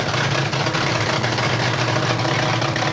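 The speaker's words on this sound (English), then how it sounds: "The engine sounds very, very nice and crisp." Drag racing car engine idling at a 1991 Santa Pod drag race meeting, a steady, loud, close rumble with a crisp low throb running unbroken and no voices over it.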